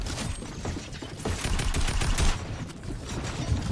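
Video game gunfire during a Fortnite scrim, with rapid bursts of shots and sharp, crackling reports packed closely together over a few seconds.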